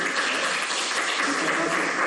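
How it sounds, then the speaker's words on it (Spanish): Dense, loud applause from an audience at an evening corporate presentation, steady and continuous throughout as a speaker is welcomed. "recibimos con un fuerte aplauso al licenciado Augusto"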